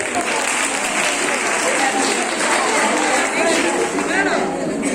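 Audience applause for winning quiz teams at a college quiz competition, a steady dense clapping from a crowd that continues throughout without pause.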